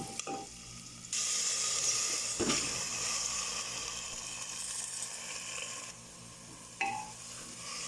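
Raw rice tipped into sliced onions frying in ghee inside a pressure cooker, setting off a loud, close, steady sizzle with bursts of hiss and a few scraping stirs and clinks, no talking.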